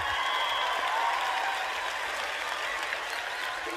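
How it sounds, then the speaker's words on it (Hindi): Sustained applause from a studio audience at a comedy show, a loud even wash of many hands clapping without pause, with crowd cheering mixed in. "ये मुंडे दी जोरदार ताली एक बार खुल के हो जाना।"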